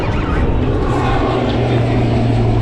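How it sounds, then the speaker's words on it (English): Lockheed C-130 military aircraft passing over a Gulf fishing pier, a loud, steady propeller roar that rumbles close by for the whole stretch, with no talking. "that C-130's coming back by"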